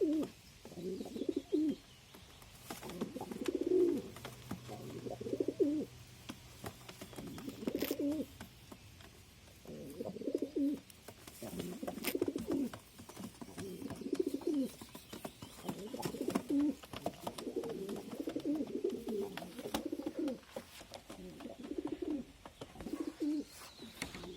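Pigeons coo in a loft in a steady run of soft, throaty, repeated phrases, fairly close and moderately quiet, with faint background rustle.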